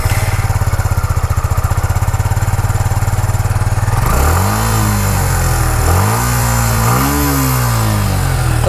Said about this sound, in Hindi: अब फाइनली इसका एग्जॉस्ट नोट सुनते हैं, 155cc का ये सुजुकी का इंजन कैसा क्या एग्जॉस्ट नोट प्रोवाइड करता है।